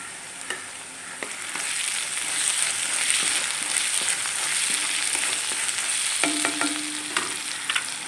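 Small shallots fry in a pan for a Nagercoil-style naarthanga pachadi, a steady close sizzle with intermittent knocks and scrapes of a spoon stirring, and no voices present.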